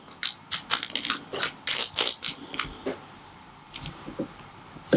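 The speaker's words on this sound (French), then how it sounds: "On va dévisser la vis de réglage appropriée." Small screwdriver working an adjustment screw on a vape atomizer, giving a run of close, crisp metallic clicks and ratcheting ticks in irregular bursts, busiest early and thinning out toward the end.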